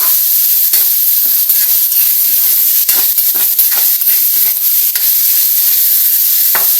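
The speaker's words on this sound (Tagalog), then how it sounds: "Habang ginigisa natin yung ating pork" Pork sizzling loudly in a pan with garlic, onion and ginger, a dense constant hiss with irregular scraping stirs throughout, close and loud, no talking.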